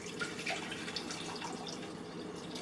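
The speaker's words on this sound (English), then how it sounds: "then I'm going to add 2 quarts of water" Two quarts of water pouring into a pot holding ginger root, a steady splashing and dripping stream at close range with no talking.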